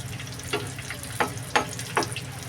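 Hilsa fish pieces and dried red chillies fry in hot oil with a steady close sizzle, broken by three sharp stirring scrapes at regular intervals.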